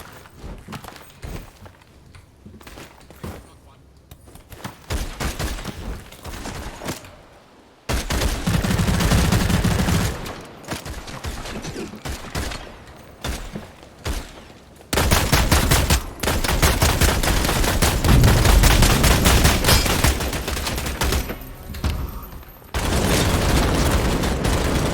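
Gunfire rings out in the Vampire: The Masquerade Bloodhunt game, with bursts of rapid shots and loud booming blasts that come and go in sections across the stretch.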